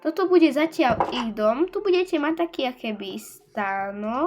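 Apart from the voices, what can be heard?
None of the usual background noises is heard.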